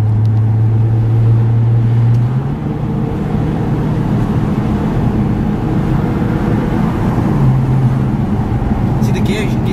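A 900 BHP Nissan GT-R engine roars loudly at close range, its droning tone stepping through gear changes as the car accelerates, with a brief clatter near the end.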